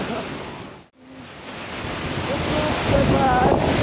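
Strong wind buffets the microphone beside the Sepli Jharana waterfall, a loud, roaring rush that dips briefly near the start and then builds again.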